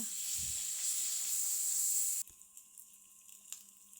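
Ginger and garlic paste hits frying onions in a pan of duck kala bhuna, a loud close hiss and sizzle lasting about two seconds, then cutting abruptly to quiet with faint scattered clicks.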